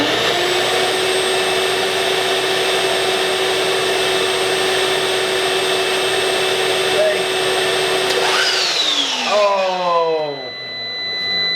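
A shop vac and a miter saw run together on an off-grid split-phase LV5048 solar inverter, a loud steady motor whine that holds, then abruptly winds down with falling tones near the end.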